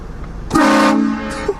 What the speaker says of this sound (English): That's a loud horn, huh?